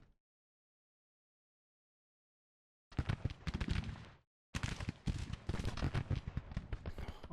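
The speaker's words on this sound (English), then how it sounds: "Just starts a nice big bombardment of our lines." Artillery bombardment of defensive lines in the Grand Tactician strategy game, with dense bursts of booming cannon fire after a silent start, a brief gap, then continuing heavy volleys.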